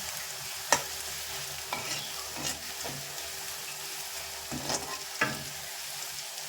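Shallots sauté until brown in a pan for Kerala-style inchicurry, a quiet, even hiss of frying with a few distinct clinks and scrapes of a spoon stirring, close by and without speech.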